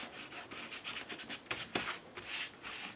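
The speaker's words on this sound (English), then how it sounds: "Take the sandpaper back to it." Sandpaper rubbed over an ink-blended paper background in quick, close, scratchy strokes, a dry rasping rhythm repeating for a few seconds.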